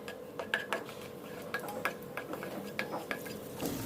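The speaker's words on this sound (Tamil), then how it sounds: "இப்போ வந்து திராட்சை சேர்த்து இதை வந்து ஊதி வர வரைக்கும் நல்லா வறுத்துக்கலாம்" Raisins fried and stirred in a kadai for rava kesari, with repeated metallic scrapes and clinks of a spoon against the pan over a low, steady sizzle, close and fairly quiet.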